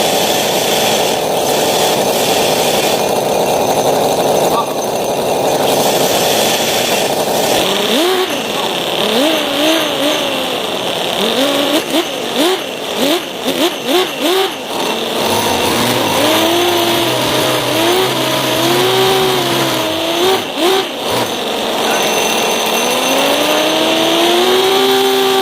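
Mini V8 and V12 model engines scream and rev on nitrous, rising and falling in rapid sharp bursts, then settle into long sustained high pitched wails, loud and close throughout.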